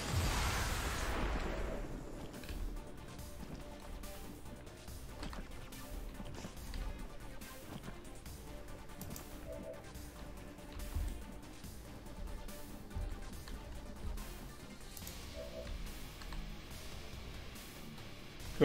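A double explosion in the video game XCOM 2: Long War of the Chosen, heard as a loud broadband blast at the start that fades into a long rumbling, crackling bed of game noise with small pops.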